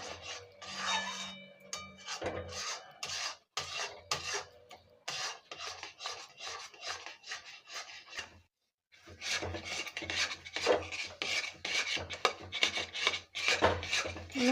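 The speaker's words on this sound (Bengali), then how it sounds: "ভালো করে করতে হবে, বারবার নাড়াতে হবে, আর নিচে লেগে যায় না, এমনভাবে নাড়াতে হবে" A spatula scrapes and stirs papaya sandesh mixture in a pan, with rapid rasping strokes in bursts, a short pause in the middle, then vigorous scraping again, close and clear.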